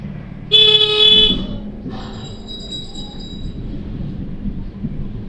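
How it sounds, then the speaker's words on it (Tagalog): One loud, close motorcycle horn blast lasts nearly a second, then a weaker, shakier honk follows over a steady low rumble. "at pindutin ang busina."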